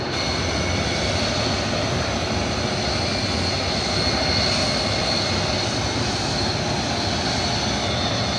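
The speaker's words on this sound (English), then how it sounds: "There's like a Delta 330 pushing back in a minute, so it's quite noisy" Delta A330 airliner pushing back at Orlando airport, a steady, loud broadband engine roar that holds unbroken throughout with a faint high whine on top.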